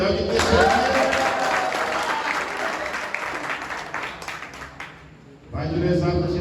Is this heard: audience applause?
yes